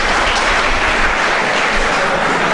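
An audience claps together in a loud, dense, continuous wash of applause that holds steady from start to finish, with no voices.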